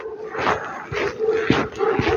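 Dogs on a -17°C winter walk, including a Russian wolf-dog, giving a series of short close yips and whimpering barks, about four distinct outbursts in quick succession.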